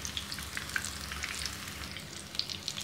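Vegetable pakoras frying in hot oil, a quiet continuous crackle scattered with sharp little pops and spits, close by, with no talking.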